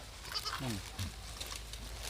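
A goat being herded out to graze in the Thai countryside gives a short, faint bleat partway through, with outdoor background noise and a person speaking nearby.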